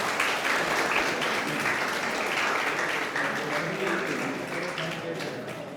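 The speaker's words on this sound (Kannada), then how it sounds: "ಚಪ್ಪಾಳೆ ತಟ್ಟಿ ಪ್ರೋತ್ಸಾಹಿಸಬೇಕು." Audience applause at a Kannada-medium school event, a dense sustained wash of clapping that tapers slightly toward the end, with no clear speech over it.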